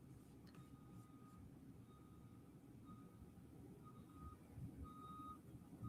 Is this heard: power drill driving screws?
no